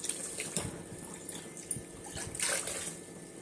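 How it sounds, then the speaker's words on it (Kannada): Faint trickling and splashing of water poured into a pressure cooker pot, with small irregular bursts. "ನೀರು ಸೇರಿಸ್ತಾ ಇದ್ದೀನಿ"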